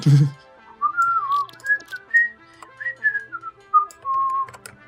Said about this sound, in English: you've got to have that slightly toneless, like, I'm busy, but I don't know what I'm whistling music